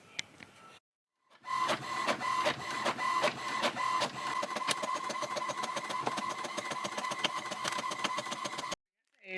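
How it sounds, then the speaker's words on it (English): Inkjet printer running off pixie dusting cards on cardstock, a steady mechanical whir with rapid repeated clicks and carriage shuttles, close and fairly loud, starting after a short pause and stopping abruptly near the end. "I'm just gonna print these on cardstock"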